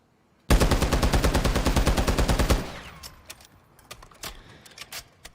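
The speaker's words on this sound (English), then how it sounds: "I'm going to hold down the trigger, let the whole magazine run, not touch the right stick." Taq V battle rifle from Modern Warfare 3 firing full-auto from the hip, a rapid, loud, evenly paced burst of about twenty shots emptying the whole magazine, then a short tail of echo, clinks and faint clatter.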